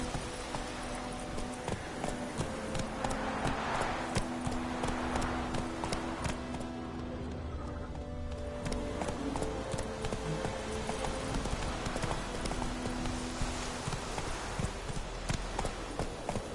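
Roach, a horse in The Witcher 3, gallops with steady rhythmic clip-clop hoofbeats over continuous game ambience and music, fairly loud and close throughout.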